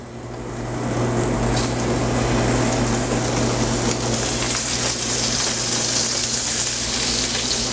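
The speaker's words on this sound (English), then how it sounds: "your pan's hot, the oil starts smoking, and we're going to layer our scallops in." Viking Village sea scallops seared in a smoking-hot oiled pan, a loud, steady sizzle that swells within the first second and holds as a continuous hiss.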